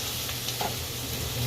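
Cabbage sizzles steadily in a hot pan as it is stirred, a continuous close frying hiss with faint scraping of the stirring.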